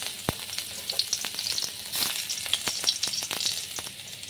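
Garlic sizzling in about a spoonful of ghee with whole spices, a close, crackling fry with sharp pops and spatters scattered through a continuous hiss, no voices.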